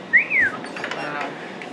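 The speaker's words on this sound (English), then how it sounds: "The new whistle." A new whistle gives one short rising-and-falling blow up close, then fades into quiet room noise.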